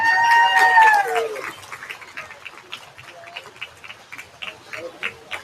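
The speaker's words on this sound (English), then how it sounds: "Give him a round of applause." Crowd applause at a 4-H beef cattle show, starting loud over an announcer's voice and then thinning into scattered, uneven clapping.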